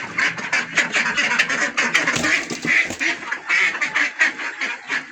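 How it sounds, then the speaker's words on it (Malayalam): A flock of ducks just let out of their cage quacks continuously and loudly, many overlapping calls at close range forming a busy, unbroken chorus. "താറാവുകൾ പുറത്തേക്ക് ഇറങ്ങിയിട്ടാ"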